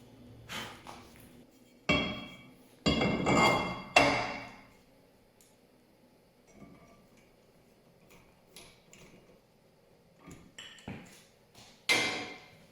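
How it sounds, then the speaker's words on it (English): A rear brake rotor being fitted back onto a Hyundai Elantra during a pad and rotor replacement, with several sharp metallic clanks and scrapes spaced apart by quieter gaps, close by and without talk. "So let's go ahead and put this rotor back on."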